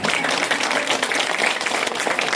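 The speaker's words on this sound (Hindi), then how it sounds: "हमारे जितने भी बच्चे हैं एक बार जोरदार मैडम और सर के लिए ताली बजाएंगे" Children at a school inauguration clap loudly for the teachers, a dense, continuous patter of many small hands filling a couple of seconds, close and even, with no speech.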